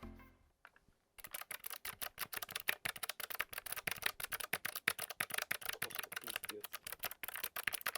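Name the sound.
clicky mechanical keyboard switches typing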